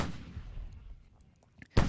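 Cannon fire from artillery in the Civil War strategy game Grand Tactician, a rumbling boom that fades out, followed by a sharp, loud blast near the end.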